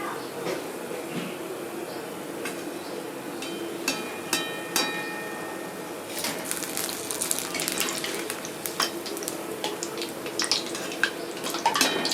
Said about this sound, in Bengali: এবার আমি তুলে জলে দেবো